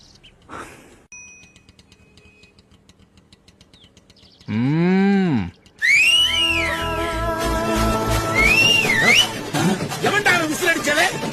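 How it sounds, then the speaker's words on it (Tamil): Loud, shrill whistles ring out in bursts, some rising and falling in warbling sweeps and others held steady, sounding in quick succession over a noisy background. "எவன்டா விசில் அடிச்சது?"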